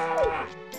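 A single cow moos in the farming video game Harvest Moon 64, one short, close call with a falling pitch, standing alone without any talk.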